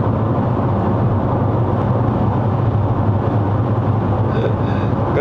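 Steady low engine hum and tyre roar fill the cabin of a 2020 Mazda CX-5 2.5 Turbo 4WD cruising on a Malaysian road, a continuous muted drone with no voices over it.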